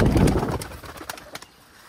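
A chot pigeon from Khulna gives a loud, close coo that fades into a few softer, trailing notes.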